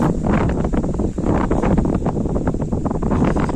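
Steady, heavy wind buffeting the microphone on a cotton farm field, a continuous low rumble and roar that barely lets up, with no voices.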